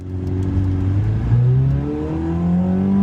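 A car engine hums steadily from inside the cabin, its pitch climbing and shifting through gears as the vehicle accelerates.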